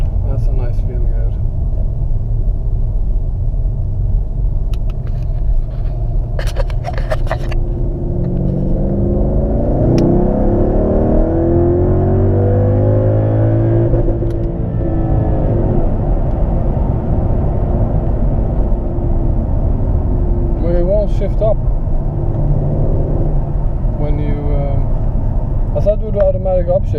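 A remapped 600hp Mercedes CLS 55 AMG engine pulls hard under acceleration, its deep rumble rising and swelling through the middle of the run, loud and close from inside the cabin, with people talking over it.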